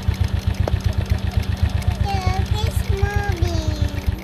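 Motorcycle engine idling close by, a steady rapid low chugging pulse throughout, with a child's and adults' voices talking over it.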